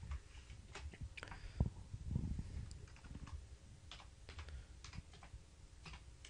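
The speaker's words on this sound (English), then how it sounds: "So we're going to type in hatch." Keys clatter on a computer keyboard as a drawing command is entered in AutoCAD, a quiet run of light, irregular clicks close by, with no talking.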